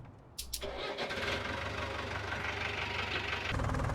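A Farming Simulator 19 tractor engine cranks and catches, then settles into a steady mid-pitched idle with a rise in rumble near the end.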